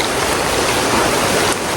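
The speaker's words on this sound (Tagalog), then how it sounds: "Ito yung ulan." Heavy rain pours down close by as a loud, dense, unbroken hiss of drops on surfaces, with no voices.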